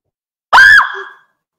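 A single loud, high scream in a radio drama broadcast, sharp onset and half-second peak, then a fading tail into silence.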